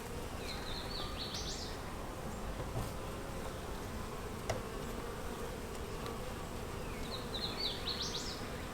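Honeybees buzz steadily in and around a hive being given a third queen, a continuous low drone heard close up, with faint chirps from birds now and then in the background.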